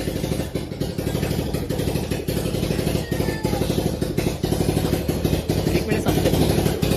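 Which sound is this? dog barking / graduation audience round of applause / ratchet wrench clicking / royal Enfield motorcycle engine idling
royal Enfield motorcycle engine idling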